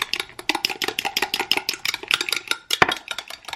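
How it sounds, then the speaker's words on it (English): Onions being mashed by hand for a Jamaican sweet potato pudding, a rapid series of wet thumping, clacking strokes against a bowl, near and fairly loud, with a brief pause before the pounding resumes. "I'm gonna just mash the onions."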